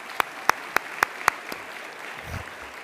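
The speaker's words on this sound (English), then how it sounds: "let's give a round of applause to all our people who have been here" Brief applause at a graduation ceremony for graduates, heard as five sharp, evenly spaced claps close by before trailing off into low room noise.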